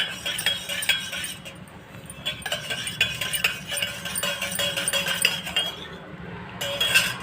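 A large spoon stirs honey into a cup, giving repeated light clinks and scrapes of metal on the cup in an irregular rhythm, close up over a quiet background.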